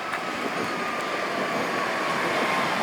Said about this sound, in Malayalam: മെമു പോലുള്ള ട്രെയിനുകളും കണ്ടോ.